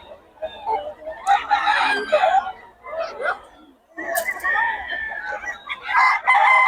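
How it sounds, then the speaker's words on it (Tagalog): Roosters crow repeatedly amid clucking chickens, loud and close, with several birds overlapping in bursts. "Puro solid manok ni Boss Perry"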